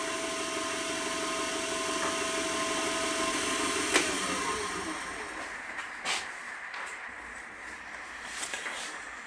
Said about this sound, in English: I'll go through the micro meshes and bring it to a nice smooth finish.